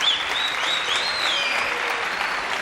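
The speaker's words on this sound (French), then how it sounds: "applaudissements pour le professeur Ivar" A French television studio audience claps steadily for a professor's entrance, a thick, even wash of applause from many hands that holds at the same level with a brief whistle near the start.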